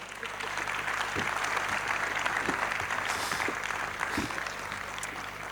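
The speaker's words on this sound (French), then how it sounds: "Si vous voulez bien applaudir nos trois intervenants." Audience applause for three speakers at a French conference, a steady, sustained wash of clapping from a crowd that fills the whole stretch, with a faint voice underneath.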